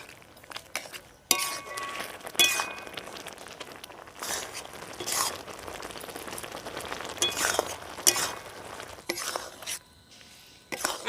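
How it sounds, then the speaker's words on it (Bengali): A spoon stirs papaya pieces in thickening sugar syrup in a pan for a Bengali papaya chutney, giving continuous close scraping and metallic clinks that rise and fall in steady strokes, with no talking. "এই চিনির রসটা ঘন না হওয়া অবধি কিন্তু এইভাবে একটু নাড়তে থাকবো"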